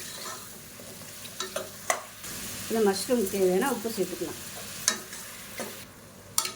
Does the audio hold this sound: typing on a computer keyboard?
no